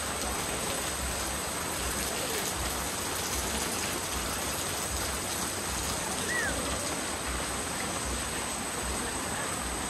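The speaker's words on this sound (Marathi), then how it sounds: "पाऊस आला बघा." Rain falling outdoors, a steady, dense hiss of drops on surfaces that continues evenly at moderate loudness, with no voices standing out.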